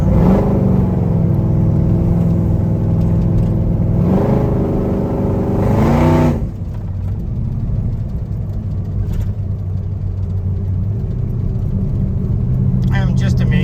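A Chevrolet/GMC Squarebody truck with a 440 big block engine and a 3500 stall converter roars down a test road, revving hard in surges before easing into a lower rumbling cruise, heard from inside the cab with people talking over it.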